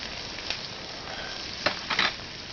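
Diced potato hash browns frying in a pan for a wild hog breakfast, a steady soft sizzle with a few brief louder crackles and stirring scrapes near the end.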